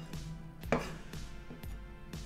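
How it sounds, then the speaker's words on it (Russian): Button mushrooms are sliced with a kitchen knife on a board, giving four or five crisp, evenly spaced cuts at close range with no talking. "И затем нарезаем такие части."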